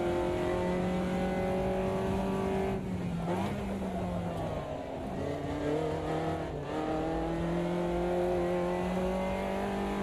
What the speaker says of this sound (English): It is a thing, feathering the throttle while you're drifting.